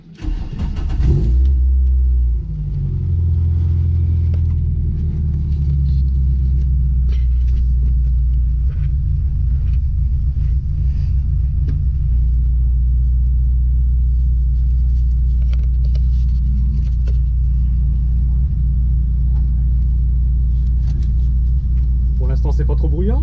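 A Renault Clio 2 RS race car's engine cranks and fires up on the Nogaro circuit, then settles into a loud, steady idle rumble heard close from inside the cabin, with occasional voices talking over it.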